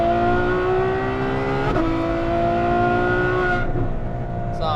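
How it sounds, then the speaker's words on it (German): A Novitec Ferrari F12 N-Largo engine revs hard and loud through upshifts, its rising howl broken by sharp gear-change cuts, heard close and continuous with no talking. "Wie der die Gänge obenrum reinhackt, wie sich das anhört, dieses Schaltgeräusch, schon heftig."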